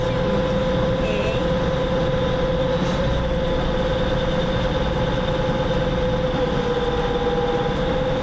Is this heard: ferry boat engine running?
yes